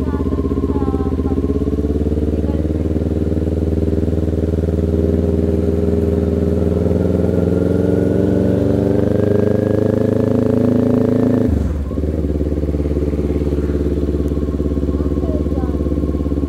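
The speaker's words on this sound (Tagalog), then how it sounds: "Baka 2008 pala yan, yung motor ni Frank" A 2008 motorcycle engine idles steadily with a low, constant rumble, with a brief dip near the end before the idle picks back up.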